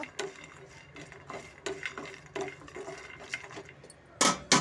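A spoon scrapes and clinks in a pan of hot fried ingredients with cardamom pods, stirred for an immunity-boosting ABC powder. The taps come in a steady, unhurried rhythm, close and fairly quiet, ending in a louder rattle.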